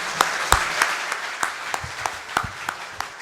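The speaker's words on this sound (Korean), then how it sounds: "박수로 환영해 주시기 바랍니다." Sparse, scattered clapping from a seminar audience welcoming the opening speaker, a few hands at a time at a moderate distance in a large room, with no voices over it.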